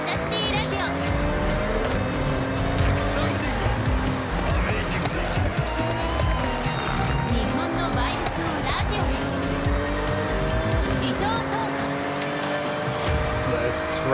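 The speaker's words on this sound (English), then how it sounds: "Accidentally sliding it around" Car sliding with squealing tires in the Forza Horizon 6 racing game, a constant roaring engine with shifting revs and long tire squeals throughout, with someone talking over it.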